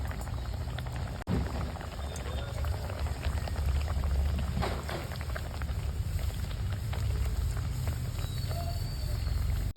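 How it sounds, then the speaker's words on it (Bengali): Puri dough frying in moderately hot oil, a continuous dense bubbling hiss that holds steady and close with a sharp click near the start. "অল্প গরমেই পুরিটা ছেড়ে দিলাম"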